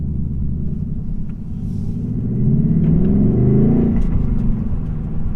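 A 2024 Ford Mustang GT Premium with a six-speed manual and its exhaust set to track mode gives a deep, loud, steady rumble from inside the car while driving, swelling as the engine pulls harder midway.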